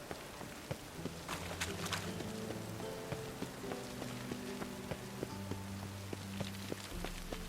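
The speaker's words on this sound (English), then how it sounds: "Let it rain." Steady rain in The Witcher 3 video game patters and drips on surfaces, a constant close hiss with scattered louder droplet hits beneath a low tonal hum.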